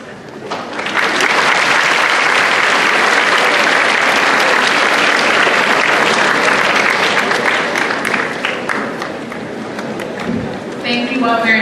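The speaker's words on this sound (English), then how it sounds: "Can we have another round of applause to our guest speaker?" A large audience at a student government spring event gives a guest speaker a loud, sustained round of applause, dense and continuous throughout with cheering mixed in and a voice rising near the end.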